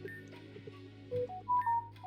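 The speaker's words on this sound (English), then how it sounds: "That's my phone. I need to turn notifications off." A phone notification plays as a short series of electronic tones climbing in pitch near the end, over a steady low hum and faint game music.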